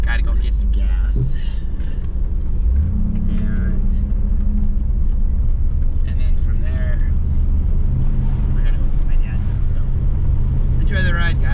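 Engine and road rumble from an IROC car cruising with the window down, steady and loud throughout, with wind buffeting the open window and a person talking over it.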